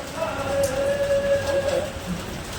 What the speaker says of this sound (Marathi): आज लक्ष्मीपूजनलाच पाऊस पडतोय बघा